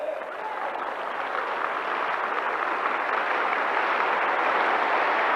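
Audience applause fills an Amway Diamond recognition ceremony hall, a steady, dense roar of many hands clapping that holds evenly and swells slightly toward the end.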